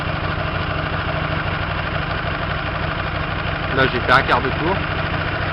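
A Hyosung 125 GTR motorcycle engine idles steadily with an even mechanical hum during a mixture screw adjustment, continuous throughout, while someone speaks briefly over it near the end.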